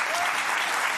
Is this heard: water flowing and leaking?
no